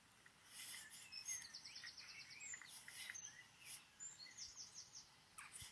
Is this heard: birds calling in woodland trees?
yes